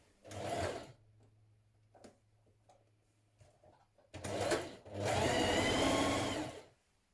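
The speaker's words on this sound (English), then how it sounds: "we're going to stitch this in place with a 1 centimetre seam" A sewing machine stitches the shoulder seams of a sweatshirt with a 1 centimetre seam, running in two short bursts early on, then a louder, longer sustained run near the end.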